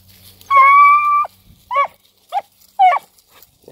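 A puppy at work gives a drawn-out whining yelp followed by three short, sharp barks, close and fairly loud with quiet gaps between them.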